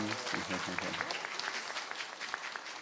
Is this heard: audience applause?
yes